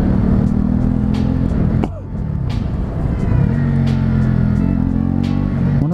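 A 2018 Honda CB125R engine revs high and steady, drops off sharply during a gear change and then climbs back to a sustained buzz. It sounds close and loud, with wind and road rumble mixed in.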